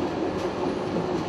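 Steady rumble of a passenger train travelling between Sarajevo and Belgrade, a continuous broadband roar heard from inside the carriage with no clear rhythm and no voices.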